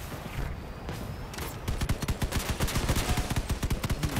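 Missiles firing in the vehicle combat game Crossout, a rapid burst of sharp repeated launches and impacts, loud and close, building into a dense rhythmic volley after a rumbling start, no voices.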